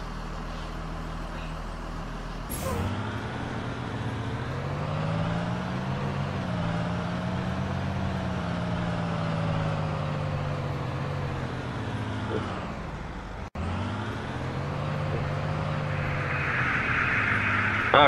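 A bus in a video game pulling into a bus lot, its engine droning loud and steady with a gentle pitch shift, a brief air-brake-like hiss, then a cutoff and restart.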